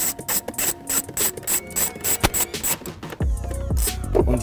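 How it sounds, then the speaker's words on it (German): A ratchet is worked on 10 mm nuts holding a plastic cover on a Mercedes C-Class W205, giving rapid close clicking bursts in an uneven rhythm, followed by metallic clattering and rattling near the end. "Das sind nur 10er Muttern, die wir hier lösen müssen."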